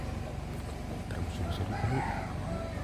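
A rooster crows over a busy outdoor background with voices, at a funeral gathering at a traditional Toraja tongkonan house in Sa'dan, Indonesia; the call is moderately distant and partly blended with crowd chatter.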